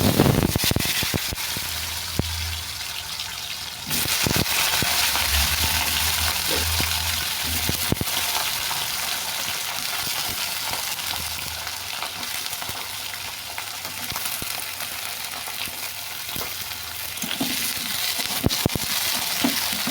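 Whole cumin seeds hit hot oil in a heated kadai at the start of a fish curry. A loud, dense sizzle crackles close up for a long stretch, with occasional clatter from stirring and no voices.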